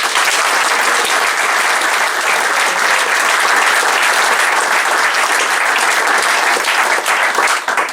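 Football fans give a player a big round of applause at a club meet-the-players event, steady dense clapping that holds at full strength throughout without a break.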